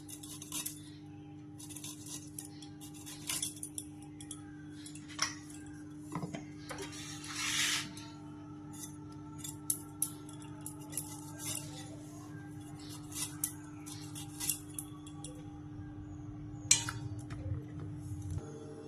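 Ivy gourd (kundri) being sliced with a knife for a poppy-seed dish, a steady series of light taps and clicks of the blade on the board, with faint clinks, close and fairly quiet, no talking.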